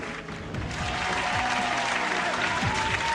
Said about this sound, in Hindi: जोरदार तालियों के साथ हम स्वागत करते हैं अपने बीच प्रियंका राय जी का